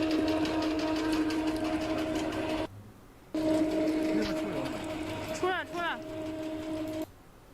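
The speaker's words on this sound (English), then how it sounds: "And for this one, it is our palm oil presser." Palm oil press machine running, a steady mechanical drone with a tonal hum that cuts out briefly and restarts, close and moderately loud, with a person talking over it.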